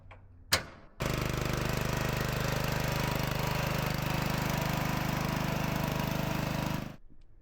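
A small gasoline engine on a log splitter runs at a steady, loud drone for about six seconds after a sharp click, then stops abruptly.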